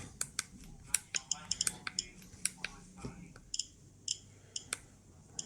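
A Geiger counter radiation detector clicks in irregular, sharp ticks, some single and some in quick clusters, heard up close with faint background murmuring.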